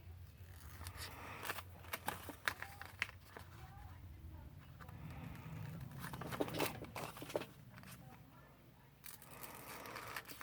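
Scissors snip through gift wrap paper in a few scattered cuts, with soft crinkling and rustling of the paper in between, close up and fairly quiet.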